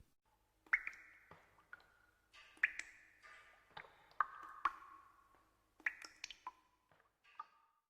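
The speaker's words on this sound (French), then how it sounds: "Goutte d'eau." Water drops fall one after another in an uneven rhythm, each giving a small bright plink with a short ringing tail, close and fairly quiet against silence.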